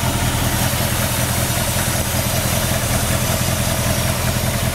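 A 1967 Ford Mustang Fastback with a 289 V8 idles smoothly, a loud, close, steady rumble with an even pulsing beat and no talking.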